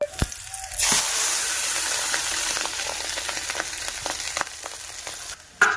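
Fish fry in hot oil, starting with a sharp burst as they hit the pan and then settling into a loud, steady sizzle with crackles, close by and without talk.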